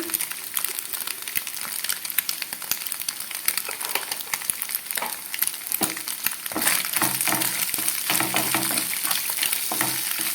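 Food frying in a pan and being stirred, producing a continuous crackling sizzle with scraping strokes, growing somewhat louder in the second half, with no talk.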